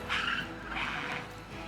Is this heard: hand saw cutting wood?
no